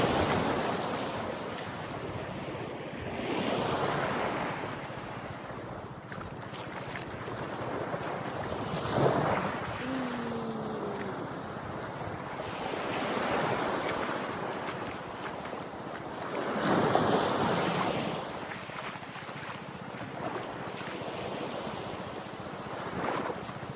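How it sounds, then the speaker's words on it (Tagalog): Sea waves wash onto the sand of an island beach, with broad surges swelling and receding every several seconds under steady wind noise buffeting the microphone. "Pinifeel ang alon."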